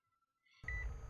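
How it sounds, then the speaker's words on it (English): A heart rate monitor beeps in the video game Zed, set in a living room with a hospital bed: a thin electronic tone, then a louder, brighter beep over a sudden swell of dense low ambience. "the stereotypical heart rate monitor beeping to reinforce it"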